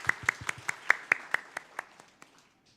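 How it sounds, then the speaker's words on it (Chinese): Church congregation clapping at a Sunday worship service, about a dozen quick, fairly even claps that fade out after two seconds. "好，再次拍手来。"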